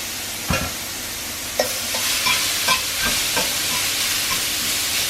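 Garlic frying in plenty of oil in a pan, a steady broadband sizzle running throughout with several sharp scraping and stirring clicks spaced through it, close and moderately loud, with no talking.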